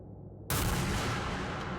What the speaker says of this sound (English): A gunshot echoes across the Tulpar.